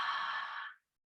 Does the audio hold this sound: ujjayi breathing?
yes